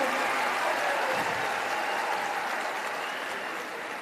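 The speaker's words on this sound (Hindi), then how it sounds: "जनाब प्रशांत किशोर जी का जोरदार तालियों के साथ स्वागत करें" A crowd at a Bihar political gathering applauds loudly to welcome Prashant Kishor, a steady, dense wash of clapping that holds for the whole stretch and tapers only slightly at the end, with no voices over it.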